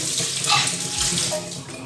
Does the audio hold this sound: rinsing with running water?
yes